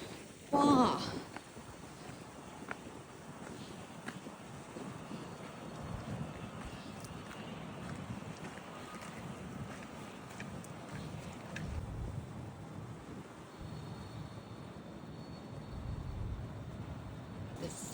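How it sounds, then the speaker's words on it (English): Steady wind rushes and buffets against the microphone outdoors during a dog walk, with a short louder gust near the start and a low continuous rumble throughout; a voice is heard briefly. "The sound of the wind."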